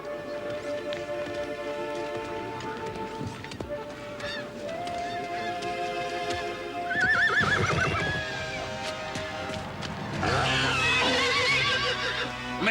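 Horses whinnying loudly in a stable scene from a Conan the Adventurer cartoon, with several shrill neighs and hoof clip-clops against a busy soundtrack background.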